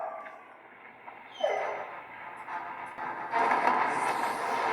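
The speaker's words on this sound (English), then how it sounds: "I could have sworn when Krypto was whining, there was a different take" Krypto the superdog whines and yips in a Superman film, thin high whimpers rising and falling over a noisy background that swells louder near the end.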